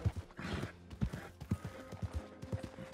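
Horse hooves clip-clop in the online mode of the video game Red Dead Redemption, a quiet, steady rhythmic trot of soft thuds repeating about twice per second with no talk over it.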